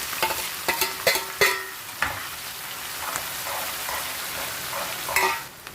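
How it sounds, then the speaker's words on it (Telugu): Onions, green chillies and curry leaves fry in hot oil, a close steady sizzle with a cluster of sharp crackles and spatters at the start and again near the end as the ingredients are stirred, with no talking. "అలాగే ముందుగా తరిగి పెట్టుకున్న మన ఈ ఆనియన్స్, ఇంకా పచ్చిమిర్చి ఉంది కదా, ఇది కూడా వేసేయాలి."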